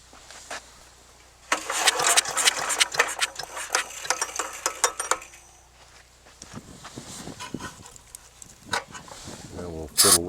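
The small engine of a chipper/shredder being restored is cranked and coughs into rough, uneven firing for a few seconds, then sputters in scattered bursts, close by.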